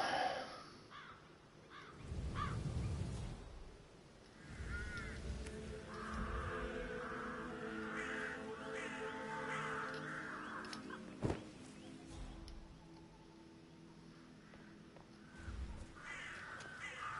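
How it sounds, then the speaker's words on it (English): Several crows caw repeatedly over a low, continuous ambient background, the harsh calls overlapping at an irregular rhythm, with one sharp thud midway. "Gotta get rid of these birds now."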